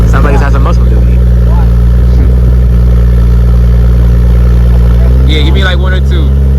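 A Toyota A90 Supra runs with its exhaust valves closed, a steady, fairly subdued engine drone held close throughout, with people talking over it and a brief higher clatter near the end.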